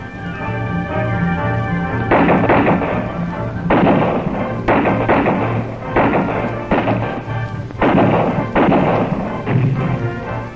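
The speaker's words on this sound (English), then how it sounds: "Here's a unique routine: shipboard target practice, held in port." Shipboard gun practice aboard armed Vietnamese navy junks in port, heard as a series of heavy, booming shots at irregular intervals, each followed by a short rumbling decay.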